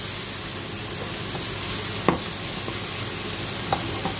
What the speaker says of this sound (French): donc je fais revenir le poireau